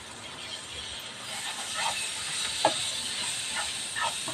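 Chopped tomato sautés in a pan for palak keerai kootu, giving a steady soft sizzling hiss with a few faint crackles and pops.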